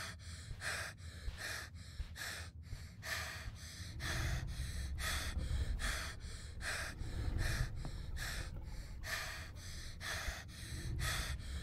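Heavy, rapid breathing from the horror video game Find Yourself, a steady run of sharp gasping inhales and exhales repeating for several seconds, loud and close with a low rumbling bed underneath and no talking.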